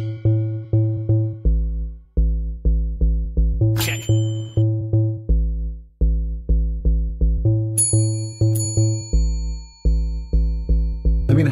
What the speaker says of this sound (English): but do you know that Muhammad, he received Quran in the sound of a bell?